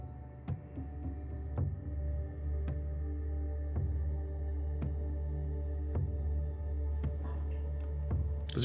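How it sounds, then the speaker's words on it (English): A washing machine drums steadily in the background, a low continuous hum with soft periodic thumps roughly every second as the drum turns, faint and unbroken with no talk. "I just realised this whole time my washing machine's been going"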